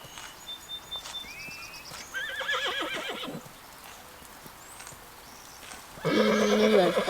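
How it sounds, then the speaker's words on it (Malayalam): A horse neighs in two loud whinnies, with hooves clip-clopping in short bursts between them, heard alone and fairly close. "എനിക്ക് ഈ കുതിരനെ സൗണ്ടൊന്നും കേട്ടാ മനസ്സിലാവൂല."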